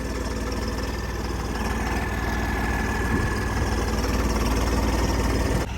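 A tractor's heavy diesel engine idles nearby with a steady low chugging rumble and rattle, continuous throughout with no voices.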